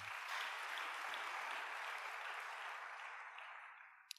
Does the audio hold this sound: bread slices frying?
no